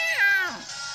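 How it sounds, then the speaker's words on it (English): Meowth's Pokémon cry from the video game Pokemon Ultra Sun: a single short, bright meow that slides downward in pitch, heard clearly and close with no talking over it. "Oh my precious Meowth! Thank goodness you weren't hurt!"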